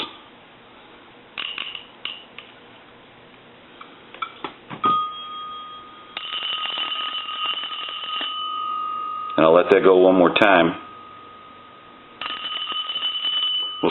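A Western Electric 233G payphone's electromechanical bell rings in a loud rattling burst between stretches of talk, with steady tonal hums sounding before and after it.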